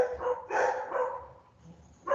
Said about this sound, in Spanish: que se atacan acá los perros